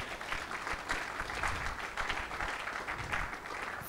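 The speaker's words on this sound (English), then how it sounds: "let's keep the hands clapping" A lecture audience at Landmark University claps steadily after the 6th Public Lecture, a dense, even roar of many hands held at a constant level throughout.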